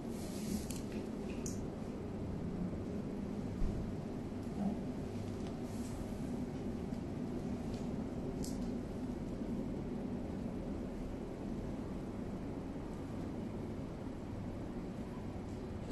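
A train passes in the distance at night in Carlisle, Cumbria. It is a faint, steady low rumble with a few soft knocks, heard alone in a quiet outdoor setting.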